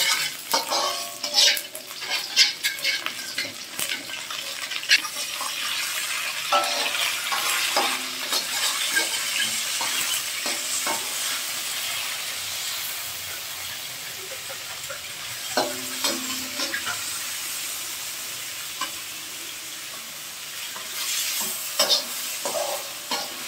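Garlic frying in four spoons of oil for chicken vegetable chow mein, a continuous sizzle with frequent scraping and clinking stir strokes against the pan, recorded close.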